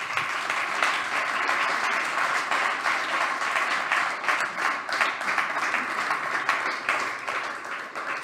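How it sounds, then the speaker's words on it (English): Sustained audience applause fills a demo day event hall celebrating six startups at an AI incubator showcase, dense steady clapping from many hands continuing throughout without talk. "a big applause again for all of our 6 startups"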